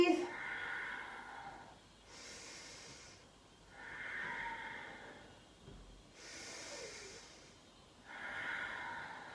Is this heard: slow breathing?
yes